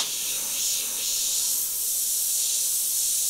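An airbrush sprays black paint in a steady, close, airy hiss that barely varies for a few seconds, with no voices.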